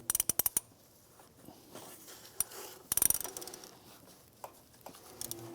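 A 5/8 spark plug socket on a ratchet works a spark plug on a 2007-2013 Acura MDX, with quick bursts of close metallic ratchet clicks and a few duller knocks between quieter pauses.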